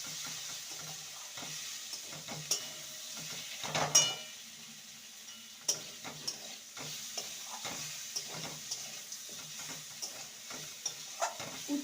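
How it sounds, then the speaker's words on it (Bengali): Fried potatoes and bitter gourd are tossed with spices in a pan, a soft low sizzle under repeated sharp scrapes and taps of a spatula at an uneven rhythm, close and moderately quiet. "এবার ভেজে রাখা আলু আর উচ্ছে দিয়ে দেবো মশলার সাথে ভালো করে কষিয়ে নেবো"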